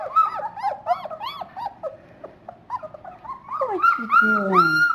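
Three-week-old puppies whimper and yip in a litter, with repeated high, wavering cries close by that come in bursts and overlap toward the end.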